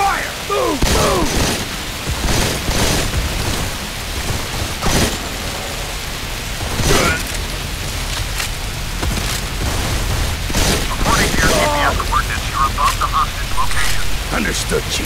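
Bursts of gunfire during a firefight in Modern Combat 4: Zero Hour, sharp loud cracks and booms scattered irregularly across the scene, mixed with shouted voices and dense battle noise.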